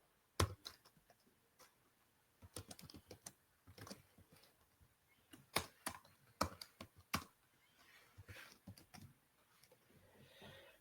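Code being typed on a computer keyboard, quiet close clicks in irregular bursts and single taps, with short pauses between runs of keystrokes.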